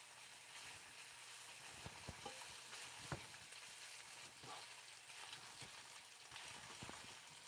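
Pork sizzles and fries in a pan, a soft steady crackle at low level with a few light scraping clatters from stirring, no voices.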